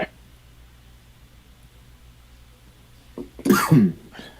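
A single sharp cough breaks a near-silent room, followed by a brief exhale.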